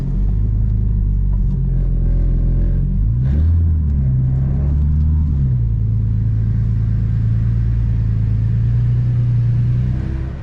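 A BMW N54 single-turbo engine, which has a misfire fault, idles and runs close by with a steady low rumble and a brief rise and fall in pitch partway through.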